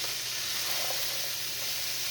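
Steady, soft crackling sizzle of food frying in a pan, continuous and close, with no voices.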